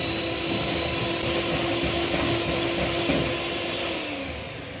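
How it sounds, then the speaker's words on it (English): An electric whisk beats brownie batter in a home kitchen, a steady high whine with a constant motor tone that winds down near the end, close and alone. "Okay, that'll do for the whisking."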